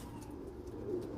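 A Red Tiger Grizzle racing pigeon coos softly and close by, a brief low murmuring call with no voices over it.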